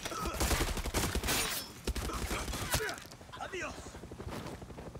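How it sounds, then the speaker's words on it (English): In Far Cry 6, an EMP bomb is shot and explodes, with a burst of loud gunfire and blasts up front, then smaller scattered crackles and clatter fading out. A voice speaks over part of it. "Was that an EMP bomb?"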